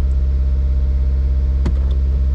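A 400+ wheel-horsepower Subaru WRX drones with a steady, loud low exhaust and intake rumble while driving, close and constant, with a brief click partway through.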